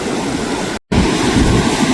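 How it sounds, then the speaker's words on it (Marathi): Loud, steady roar of rough surf on a stormy, cyclone-churned sea at Murud Beach, broad and continuous, cut by a momentary dropout near the middle. "लाटा बघताय कशा लाटा समुद्र फुल खवलेला आहे"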